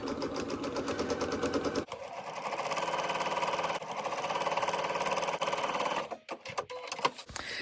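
A sewing machine runs steadily, sewing a quarter-inch seam, with a short pause and a brief reversal for a back stitch, then stops abruptly and is followed by a few light clicks and handling noises.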